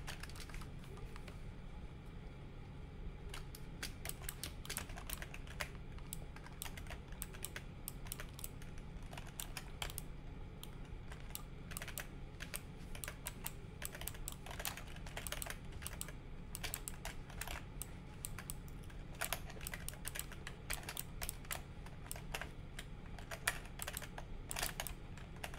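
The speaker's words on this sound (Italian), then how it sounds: "vi faccio sentire la mia tastiera" A computer keyboard clatters with fast, irregular keystrokes during Fortnite play. The typing is close and steady for the whole stretch, over a low hum and with no speech.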